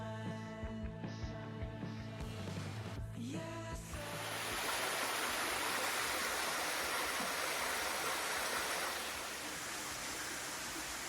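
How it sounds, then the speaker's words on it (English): Small waterfall cascade in a box canyon: after a few seconds of other clattering noise, a steady broad rush of falling water swells up and fills the rest, loud and close, with no voices. "there's that little waterfall cascade I just filmed"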